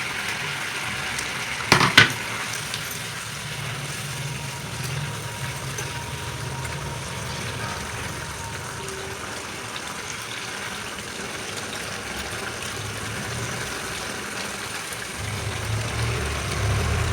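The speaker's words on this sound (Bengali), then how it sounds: "গ্রেভিটা ফুটে উঠেছে, এবার আমি ভেজে রাখা মাছগুলি দিয়ে দিচ্ছি।" Fried chitol fish pieces drop into boiling curry gravy for a tel jhal, a brief clattering splash near the start followed by a steady soft bubbling hiss.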